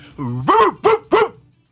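A person imitates a dog's bark on a live sports talk show, giving a drawn-out growling lead-in followed by three loud, punchy barks in quick succession, close to the microphone.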